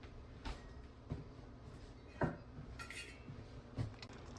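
A lid goes onto a pot of pasta simmering on low heat, with a handful of light metallic clinks and taps spaced apart over quiet kitchen background.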